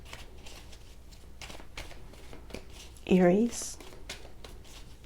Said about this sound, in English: I have already shuffled them, but they seem to want to do a little bit more.